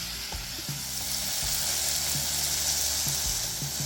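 Nendran banana sautéing in a pan, giving a continuous close frying sizzle with a dense crackling hiss that runs evenly throughout, and no voices.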